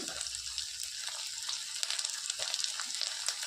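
Chopped ginger and green chillies sizzle in hot butter in a pan for butter tadka, a soft steady crackling fry with small irregular pops, fairly quiet and close.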